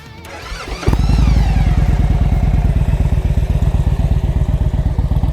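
A 2016 Victory Judge motorcycle with performance exhausts cranks and fires up, then settles into a loud, steady, lumpy idle with a deep, pulsing exhaust note.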